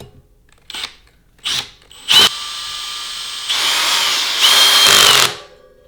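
A power drill drives screws into a bicycle brake rotor on a Norco Aurum HSP downhill bike, with a few short whirring bursts followed by a longer sustained whine, close and loud.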